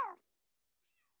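A single short cat meow, close and clear at the start, followed by near silence and a very faint trailing sound a moment later.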